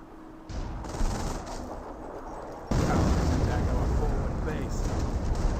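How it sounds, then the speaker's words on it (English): Artillery barrage in the Company of Heroes game: a dense, continuous roar of rapid gunfire and explosions that swells loudly partway through, with a voice commentating over it. "Those are starting to barrage this recovery bunker there."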